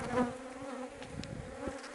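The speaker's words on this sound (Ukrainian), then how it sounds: "Бджоли агресивні стали" Honey bees at an apiary, agitated and aggressive, hum in a steady close buzz with overlapping wingbeat tones for a brief moment, no talk.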